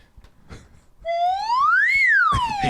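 A voice imitates a slide whistle, a smooth tone gliding upward and then back down over about a second, loud and close, framed by scattered talk and noise before and after.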